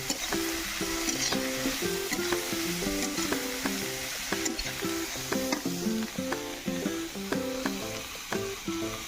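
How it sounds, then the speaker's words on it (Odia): Chicken and onions sizzle steadily in a pan, a continuous close frying hiss broken by repeated light knocks of stirring, with no talk over it. "ଏବେ ଚିକେନ କଷାଟା ହବ। ଏବେ ପିଆଜ ପଡି ସାରିଛି।"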